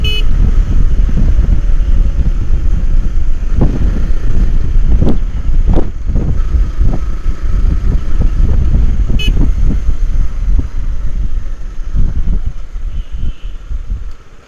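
Loud, continuous wind buffeting roars across a GoPro microphone while riding at over 70, a heavy low rumble with gusty bursts and faint engine noise underneath.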